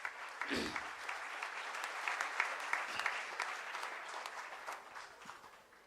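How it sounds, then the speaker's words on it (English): Applause for the champions of a civil engineering quiz competition: a sustained, fairly distant crowd clapping at an even level, with a couple of low thumps near the start. "I think they all deserve a thunderous applause."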